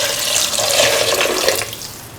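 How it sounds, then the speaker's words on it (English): Water pours steadily into a pan of beef, carrot and ivy gourd stew, a continuous close splashing rush that eases off toward the end. "Now pour in 750 ml of water."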